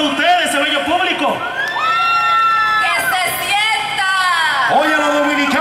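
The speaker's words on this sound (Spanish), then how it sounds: "Un aplauso para ustedes, ese bello público." A large outdoor crowd at a Dominican parade and festival in Brooklyn cheers, whoops and shouts continuously, with high voices rising and falling in loud, sustained waves.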